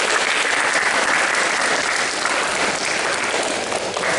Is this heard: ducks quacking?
no